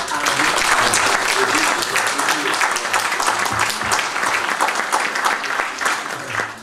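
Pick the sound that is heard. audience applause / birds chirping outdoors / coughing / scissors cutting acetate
audience applause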